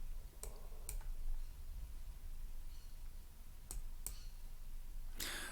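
Mouse clicks on a computer while uploading shapefiles to a geoportal, a few sharp, close, isolated clicks spaced over several seconds against a faint steady hum.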